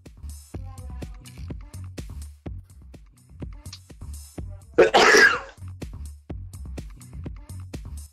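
One loud, sharp sneeze bursts out near the microphone partway through, set against quiet background ticks and clicks.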